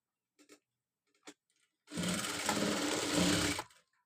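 A few faint ticks, then a sewing machine runs in one steady close burst of about two seconds while stitching a blouse side joint.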